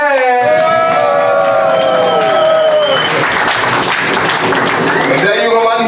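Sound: audience applause

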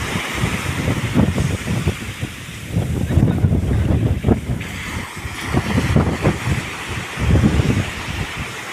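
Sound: strong wind and waves at sea while fishing

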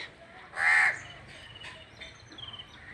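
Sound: crows cawing

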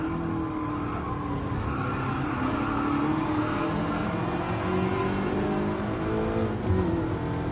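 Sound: Ferrari race car engine roaring in video game Gran Turismo Sport

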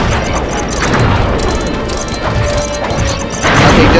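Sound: explosion in the video game Sly 3: Honor Among Thieves

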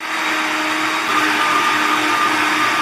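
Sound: blender blending washed huacatay leaves

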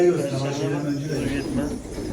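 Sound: young pigeon cooing at a pigeon cafe

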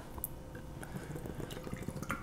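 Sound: hazy IPA beer poured from can

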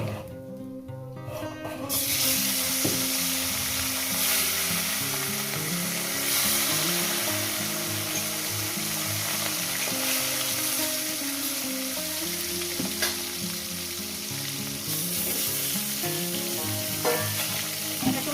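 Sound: rohu fish pieces frying in oil

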